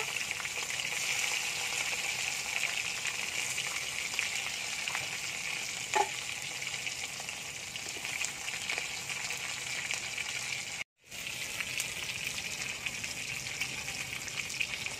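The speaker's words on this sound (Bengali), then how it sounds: "আমি কাঁকড়াগুলো ভেজে নেব।" Sea crabs fry in hot oil in a kadai with a continuous dense sizzle and crackle, fairly close and steady for the whole stretch, broken only by a brief gap near the end, with no one talking.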